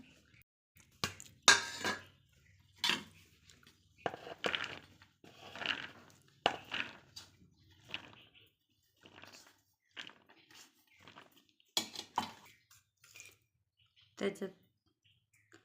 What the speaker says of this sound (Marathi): आता त्याच्यात ना बटाटा टाकून घेणार आहे आम्ही आणि साबुदाणा टाकून घेणार आहे। सगळं एकजीव मिक्स करून घेणार आहे।